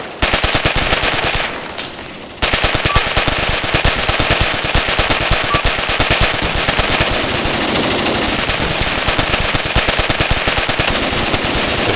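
Submachine gun fire in the Graviteam Tactics war game, long unbroken rapid bursts, loud and dense, with one short pause early on and no voices.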